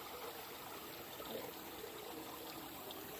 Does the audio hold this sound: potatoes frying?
no